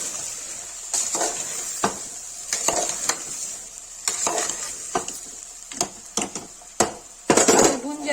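A spoon scrapes and clatters through potatoes and salt in a cooking pot, giving repeated irregular stirring strokes over a steady sizzling hiss, close and moderately loud.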